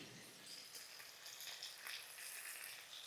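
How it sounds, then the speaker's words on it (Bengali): Faint, steady sizzle of potato pieces frying in oil with salt and turmeric, a soft continuous crackle with small pops and no talking. "এবার আমি এই আলুগুলোকে ভালো করে ভাজবো"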